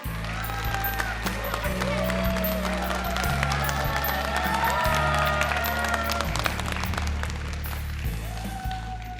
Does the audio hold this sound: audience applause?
yes